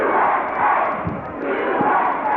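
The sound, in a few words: crowd chanting USA at wrestling event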